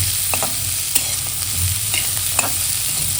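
Boiled chickpeas and grated coconut are stirred into a sizzling tempering in a pan, with close, steady scraping strokes and occasional spoon taps over a continuous frying hiss, with no voices.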